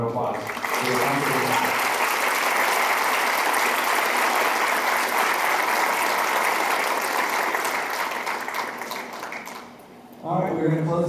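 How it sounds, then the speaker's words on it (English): A school concert band audience gives one more round of applause, a dense, steady wash of clapping filling the hall for about ten seconds before fading, with a voice briefly heard at the start and end. "So I have one more round of applause."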